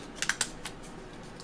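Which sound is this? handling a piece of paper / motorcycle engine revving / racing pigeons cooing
handling a piece of paper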